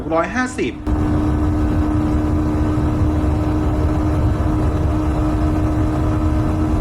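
A 2020 Kawasaki Ninja 650 sport motorcycle with a 652 cc engine drones loudly and steadily at high revs, close by, after a brief burst of voice at the start.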